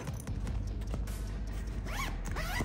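Zipper on a 5.11 Tactical travel bag being drawn open in a few quick rasping pulls, close and clear with no talking.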